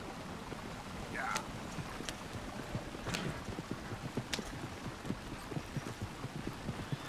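Horse hooves clip-clopping at a steady pace in the video game Red Dead Redemption 2, a rented horse moving through a night scene, with soft even footfalls and faint background ambience.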